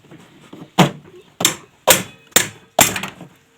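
A hammer strikes a seized washing machine shaft part five times, each a sharp, loud metallic knock at a fairly steady pace, preceded by quieter handling noise.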